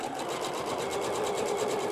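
A sewing machine runs steadily, joining quilt strips with a fast, even mechanical whir and regular needle pulses, close and continuous, with no talking.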